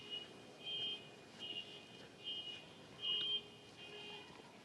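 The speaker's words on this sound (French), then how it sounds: "Il y a une alarme de Renault 12 en plus." Renault 12 car alarm beeping near a temple, a series of short, regular electronic beeps at moderate distance, fairly faint over quiet background hum.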